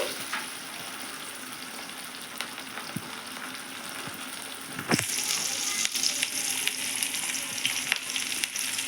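Curry leaves hit hot oil for a spicy egg fry, and a soft background sizzle jumps into a loud, crackling, sustained frying hiss halfway through, close up with no voices.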